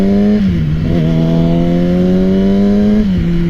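A Yamaha R6 sport motorcycle bogs in loose sand off-road, its engine droning loudly and steadily with small rises and dips in revs as the rear wheel churns, close and continuous throughout.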